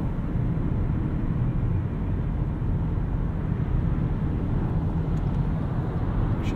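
Steady low road rumble and tire drone fill the cabin of a 2017 Lexus ES300h hybrid cruising on the highway, a continuous muffled hum without any talking.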